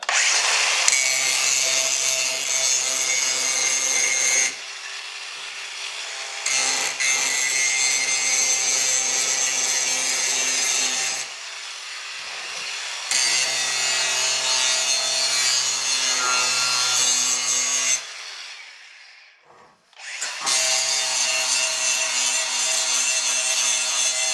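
A Bauer cordless angle grinder with a grinding wheel cuts through material in several long bursts, a loud harsh rasping whine that stops briefly between passes, close and without talk.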